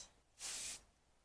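One short burst of aerosol dry shampoo spray hisses for about half a second, close and bright, against a quiet background.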